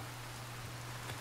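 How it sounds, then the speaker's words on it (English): Rain falls steadily in the Resident Evil 4 Remake video game, a soft, even hiss of rainfall under a low, constant hum, heard alone and fairly quiet. "Yep, starting to rain."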